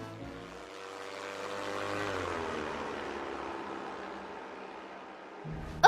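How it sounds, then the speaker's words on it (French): A toy drone's propellers whir in a steady, buzzing drone whose pitch swells and then eases back, close and moderately loud, ending on a sharp click, with no voices. "Notre drone est prêt à décoller."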